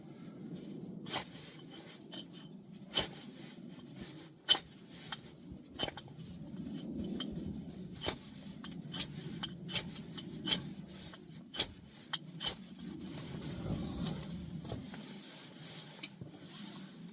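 A hatchet scraping wood to start a fire at a cold-weather hot tent campsite, making steady soft rasping strokes with faint sharp clicks at intervals, close and quiet.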